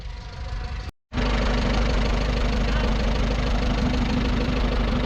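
An old Case tractor sits running at the Glamis Transport Extravaganza show in Scotland, its engine idling loud and steady up close, with a brief cut in sound before the chugging drone resumes.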